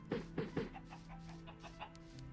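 Chickens cluck close by, with three quick, throaty clucks at the start followed by softer, scattered clucking against a low steady hum.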